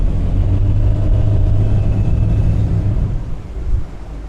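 A 2013 Bayliner 195 boat with a Mercruiser 4.3 engine runs through hard turns at about 20 mph, its loud low engine drone steady before easing off near the end, with water rushing alongside.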